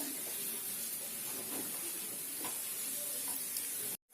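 Onions and coriander stirred into egg curry in a pan, a faint continuous sizzle and hiss with light stirring scrapes, quiet and close, ending in an abrupt cut.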